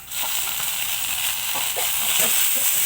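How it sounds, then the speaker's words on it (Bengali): Peas and chopped tomato frying in a pan give off a loud, steady, close hiss and sizzle, with a few faint clinks underneath. "এই যে মটরশুঁটিটা অ্যাড করে দিলাম, দিয়ে একটু ভেজে নেব।"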